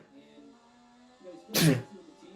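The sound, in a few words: sneeze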